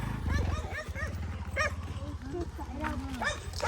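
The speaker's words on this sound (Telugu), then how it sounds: "కుక్క మళ్ళీ కుక్కలు వస్తాయి చూసుకో." Dogs bark and yip close by in short, irregular bursts. Some bark singly and some bark in quick pairs, with a whimpering whine between them, while people talk over and around the barking.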